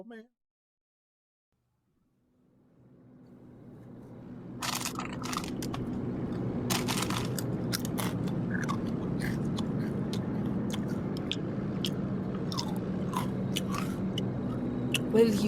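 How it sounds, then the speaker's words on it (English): Crunchy munching of spicy Takis rolled tortilla crisps, repeated bites and chewing close to the mic over a steady low background hum, starting after a short silence. "Will you stop with the munching of the crisps?"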